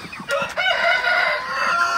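Broiler chickens clucking and calling close by before dawn, a busy overlapping chorus of birds with a couple of sharp short notes near the start.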